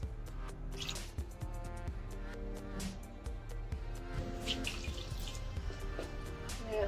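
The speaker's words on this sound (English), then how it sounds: "Let's give her a little rinse." Tap water rinses a cold rolled steel Blackstone griddle, a steady splashing stream with scattered drips and clanks from the metal, moderately quiet throughout.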